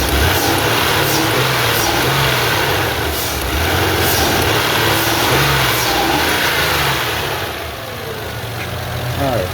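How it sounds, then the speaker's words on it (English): A 2001 Mazda 626 engine idles steadily up close after its fuel injectors were replaced, with a low even rumble and a slight swell partway through. "sounds like it's idling pretty well"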